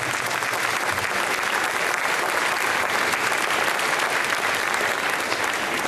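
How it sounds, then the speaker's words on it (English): A live audience at a horror fan event gives a sustained round of applause, dense clapping and some crowd noise filling the room evenly from start to finish with no talk over it. "I think that deserves a round of applause."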